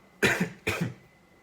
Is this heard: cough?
yes